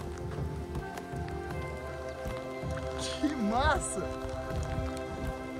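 Rain and hail falling outdoors on an icy mountain, a steady pattering wash beneath excited voices talking nearby.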